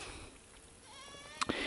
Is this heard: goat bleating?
yes